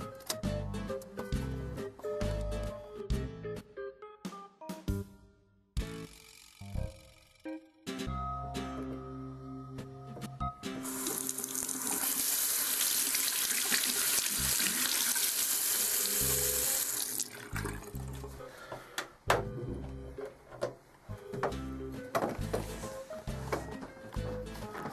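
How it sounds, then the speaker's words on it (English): Water runs from a household faucet into a sink, a steady rushing stream heard alone for several seconds in the middle, with clattering and bumping sounds before and after. "Did I close the faucet?"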